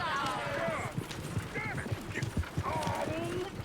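Steady horse hoof clopping with occasional whinnies in Red Dead Redemption 2, near a coach, heard beneath overlapping voices in a busy, noisy scene.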